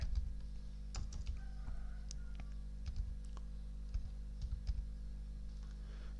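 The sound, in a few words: typing on a computer keyboard in Excel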